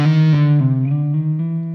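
Electric guitar blues run played with hammer-ons and pull-offs, a smooth legato phrase with softer note attacks over a ringing sustained tone, close and brief with no voices.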